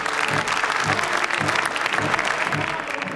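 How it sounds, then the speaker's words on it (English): Dense, sustained audience applause in an opera house at a Dutch National Opera presentation of Animal Farm, loud and steady throughout with many hands clapping at once and no break. "Okay, so we have a lot of applause today."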